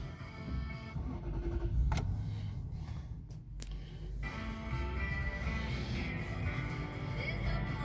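A 2002 Lexus LS430 with about 56,000 km starts up: a steady low engine rumble runs throughout, with a brief sharper mechanical noise just before it settles into a smooth, even idle close by.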